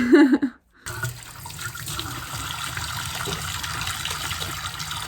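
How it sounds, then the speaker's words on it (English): A tap runs at a steady, moderate rush for hand washing. A short burst of a voice comes first, then a brief silence, and after that the water flows on continuously, close by. "let's go wash our hands"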